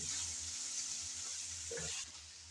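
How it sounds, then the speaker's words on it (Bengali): Shrimp fry in a pan and get stirred, giving a faint, steady sizzling hiss with a couple of soft stirring scrapes near the end, close but quiet and with no talk. "আমি কিছুক্ষণ পরে এসে আবার একটু নেড়ে চেড়ে দিলাম আমার মাছগুলো কিন্তু কষানো হয়ে গেছে"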